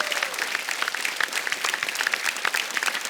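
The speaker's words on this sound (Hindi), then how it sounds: "तो उनके लिए जोरदार तालियां हो जाएं" A studio audience applauds Mumbai police families at a comedy stage show, a dense, steady burst of many hands clapping at once, fairly distant and with no voices over it.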